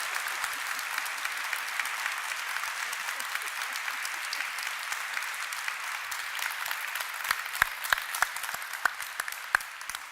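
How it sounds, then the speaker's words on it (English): Sustained applause from a conference audience after a plenary lecture at an Outlander conference, dense steady clapping throughout with a few sharper nearby claps toward the end, no speech. "please give it a huge round of applause"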